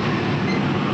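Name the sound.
passing train hauled by a WAP 7 locomotive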